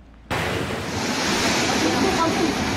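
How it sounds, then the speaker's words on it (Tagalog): Large waves driven by Typhoon Uwan crash onto the shore in Baras, Catanduanes, a sudden loud surge of surf and wind that rolls on steadily at close range. "Napasigaw na lang ang mga tao sa mga hampas ng malalaking alon sa Baras, Catanduanes"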